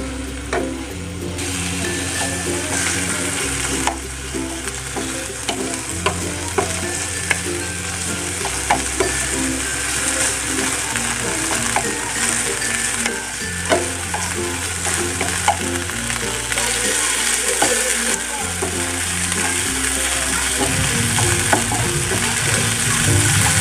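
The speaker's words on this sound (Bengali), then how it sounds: "এখন এগুলাকে একটু নেড়ে চেড়ে ভালো করে ভেজে নিব।" Chicken pieces sizzle and fry in a pan while being stirred, a continuous loud crackle with periodic scraping and stirring strokes over about twenty seconds, no voices.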